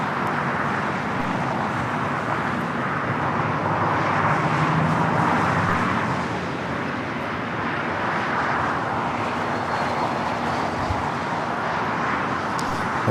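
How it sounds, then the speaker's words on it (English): An Iberia Airbus A350-900 arriving from Madrid rolls fast at LAX, producing a steady, broad jet-engine roar that swells slightly midway and stays loud and continuous throughout, with no talking. "The Iberia A350 moving pretty fast."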